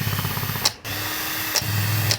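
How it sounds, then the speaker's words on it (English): A power drill whirs steadily up close while removing hex bolts from a hedge trimmer, stopping briefly and starting again with short pauses, its motor droning at a constant pitch. "In the shop, we're going to use an actual drill here to take these out."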